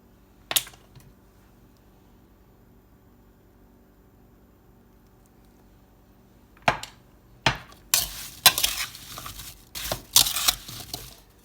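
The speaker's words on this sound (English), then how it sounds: "just mix the sugar, cinnamon, lemon juice with the cut up apple bits" Cut apple bits are stirred together with sugar, cinnamon and lemon juice. After a long quiet stretch come a few sharp clatters and scraping knocks of a utensil against a bowl, close and uneven, with no talking.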